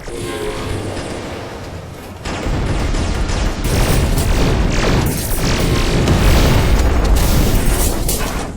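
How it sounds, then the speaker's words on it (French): Laser fire and heavy explosions in an AI-generated monster-hunting action show, a dense, loud continuous barrage of booms and blasts that swells sharply after a quieter opening. "Je n'ai jamais vu le tir laser arriver si vite."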